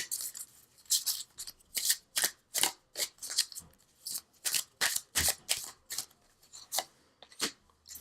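Angel oracle cards are shuffled in a quick, steady rhythm of crisp, close riffling swishes, about two each second, with faint rustling between them and no talking.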